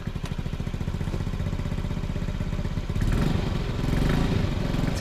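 A scooter engine runs steadily with a pulsing, buzzy mechanical drone and some clatter, close and loud throughout, rising slightly in intensity partway through.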